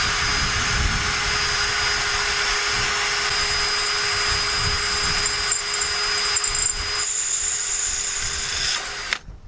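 A power drill bores holes in metal with a steady, loud, grinding whine that holds for several seconds, then cuts off abruptly at the end.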